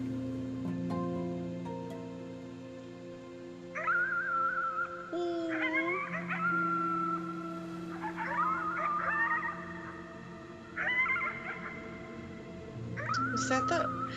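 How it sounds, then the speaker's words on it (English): Howling at the moon in the video game Before Your Eyes: several rising, wavering howls at moderate level over a steady tonal music bed, coming in separate bursts. "You howled at the moon, at the top of your lungs."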